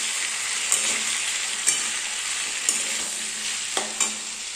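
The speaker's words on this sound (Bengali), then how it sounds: "পোস্তের আলু ভেজে নিচ্ছি ভালো করে" Potatoes for a poppy-seed posto dish sizzle steadily in a frying pan, with a few sharp stirring clinks as a spatula scrapes through, loud and close, no one speaking.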